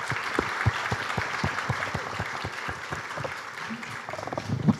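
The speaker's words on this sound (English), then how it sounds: "please join me in thanking our distinguished panelists with a round of applause." Steady applause from a conference audience thanking panelists at a high-level meeting of middle-income countries, with dense clapping throughout and a faint murmur of voices underneath.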